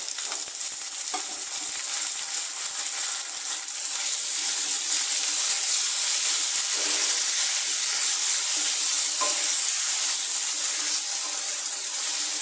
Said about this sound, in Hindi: प्याज को मैंने सोते कर लिया है। अब मैं इसमें डालूँगी